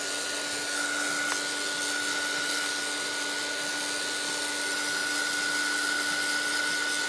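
A steady whirring blower, most likely a hairdryer or heat tool, runs continuously to dry coffee-dyed paper card blanks, giving a constant airy hum with a faint tonal whine and no talk over it.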